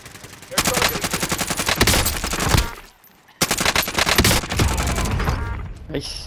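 Rapid machine gun fire in the video game Call of Duty: Modern Warfare, two loud sustained bursts of fast shots separated by a short silent gap, with a final burst trailing off at the end.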